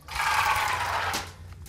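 Soup beans poured into a pot at an outdoor campfire, a brief loud rushing clatter that swells, holds for about a second, then tails off.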